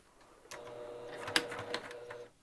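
A sewing machine runs at close range, top stitching an ironing board cover in a steady mechanical whir for about two seconds, fairly quiet, with a few sharper clicks along the way.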